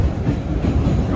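Train carriage interior on a big-city trip, with a loud, continuous low rumble of wheels and rail noise and no talk.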